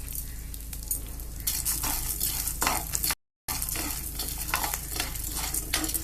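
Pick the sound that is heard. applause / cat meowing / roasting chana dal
roasting chana dal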